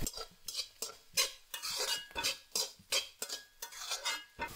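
A metal spoon scrapes and clinks against a pan as crushed garlic is stirred and sautéed, in repeated rhythmic strokes, close and fairly quiet, with no talk.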